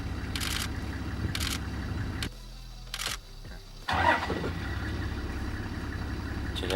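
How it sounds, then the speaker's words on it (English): A safari vehicle's engine starts on a game lodge drive in Botswana, a brief crank and catch followed by a steady idle, heard up close over a constant low rumble with a few faint camera clicks. "It's every time we start the car."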